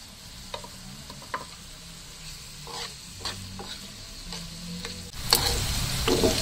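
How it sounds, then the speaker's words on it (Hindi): Boiled chicken frying in desi ghee with garlic ginger paste, a close steady sizzle broken by repeated scraping stir strokes, building into a louder, fuller hiss toward the end, no voices. "चिकन को जो है ना हल्का सा कलर देने के लिए देसी घी में इसे ऐड कर देती हूँ।"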